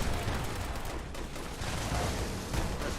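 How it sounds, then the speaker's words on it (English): Dense, continuous barrage of explosions and gunfire during a Fallout 76 event, loud, overlapping booms and crackling blasts filling the whole stretch with no let-up and no talk. "Too many explosions I couldn't see."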